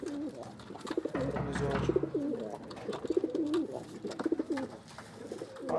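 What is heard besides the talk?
birds cooing, pigeon-like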